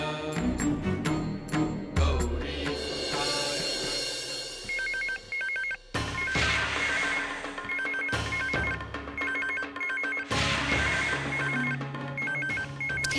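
A telephone rings repeatedly in a dramatic indoor scene, its electronic trilling tones recurring in short bursts over swelling background music and loud orchestral stings.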